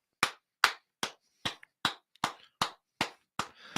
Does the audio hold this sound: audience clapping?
yes